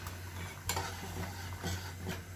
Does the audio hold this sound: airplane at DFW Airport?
no